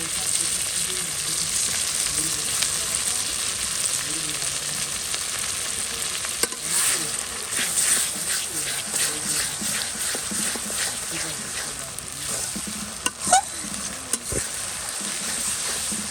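Ginger and garlic hit hot oil and give off a steady, hissing sizzle. A few sharp clatters and knocks from the pan break in partway through.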